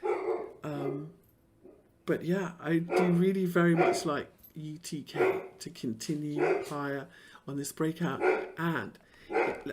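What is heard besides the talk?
dog barking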